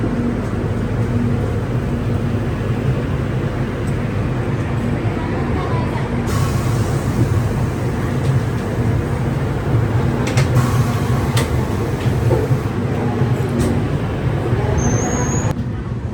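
The Dadar–Jodhpur Express (14808) departs Mumbai's Dadar station, hauled by a WAP-7 electric locomotive, with a steady loud rolling rumble and occasional clanks throughout, with voices talking faintly over it.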